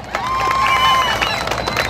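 Crowd cheering and clapping at a jaripeo bull riding show in a Georgia mall arena, a broad continuous roar of hands and voices rising and holding for a couple of seconds.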